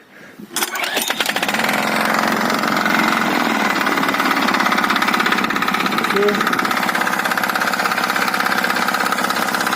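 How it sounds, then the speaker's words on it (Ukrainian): A six-horsepower diesel walk-behind tractor engine starts up, catching within the first second and then settling into a loud, steady clattering idle that runs on continuously at close range. "І заводимо дізельний, е, шестилошадний дізельний такий мотоблок"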